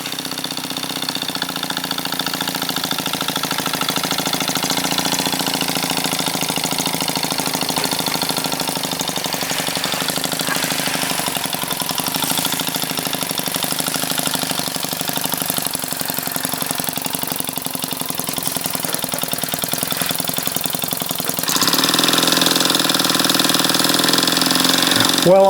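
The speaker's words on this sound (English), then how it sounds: "What a precision little engine, and just fired up instantly." A small RW-1K model steam engine fed by a kit-built boiler runs continuously with a steady, close mechanical chugging hum, growing slightly louder and brighter near the end.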